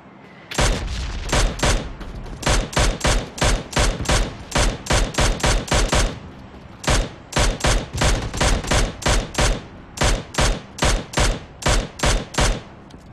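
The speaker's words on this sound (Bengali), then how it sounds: "নন্দ কাকে গুলি করছি?" Gunfire from a shooting video game rings out in loud, rapid bursts of automatic fire, with short pauses between volleys and no talking.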